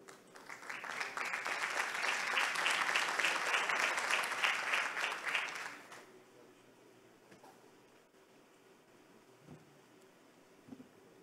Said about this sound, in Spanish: recibimos a Peter con un fuerte aplauso